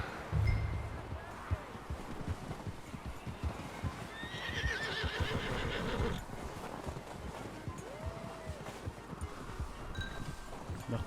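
A horse in Red Dead Redemption 2 clops along on hooves with a steady rhythm and lets out a whinny, heard close over outdoor ambience along with a voice speaking.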